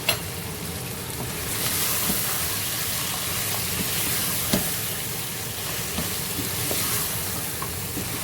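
Kashmiri red chili powder sizzles in hot oil with meat masala for Lahori aloo gosht. A steady close frying hiss carries a few soft stirring knocks.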